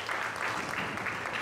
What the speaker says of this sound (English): And look at the iAcademy Auditorium just willing him on. Cheering him on.